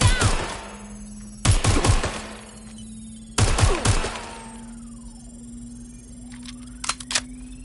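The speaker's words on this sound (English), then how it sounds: "Taking fire! I'm pinned down." Gunfire in a Watch Dogs shootout: two loud bursts of rapid shots about two seconds apart, each ringing out and decaying, with a faint hum between and a brief clatter near the end.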